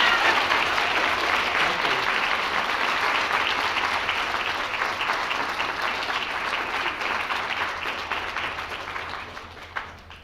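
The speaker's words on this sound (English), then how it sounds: "please give a special round of applause to Professor Odo, a true Asian American Studies pioneer." Sustained, loud applause fills a lecture hall as an audience claps for a visiting professor, a dense unbroken roar of many hands that slowly tapers near the end.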